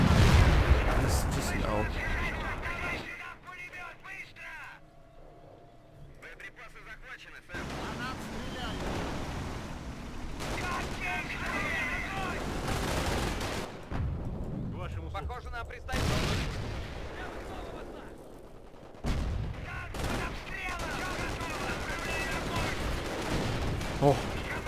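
Big guns in a Company of Heroes Eastern Front battle boom in heavy, sharp blasts at uneven intervals, and wind-like rumble and pauses of near quiet fall between the shots.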